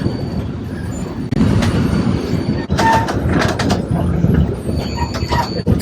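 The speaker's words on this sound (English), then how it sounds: "So we are back on the tram again" A Vienna tram runs steadily on its route toward the city centre near Prater Park, with continuous rumble of wheels on rails, occasional squeals and rattles from the car, and faint voices in the background.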